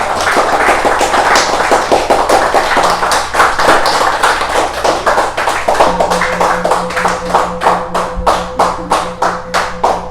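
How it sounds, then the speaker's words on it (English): A seated audience at a meditation talk claps in dense, sustained applause that settles into a rhythmic, evenly paced beat toward the end, with a faint low tone underneath. "Can you give an applause?"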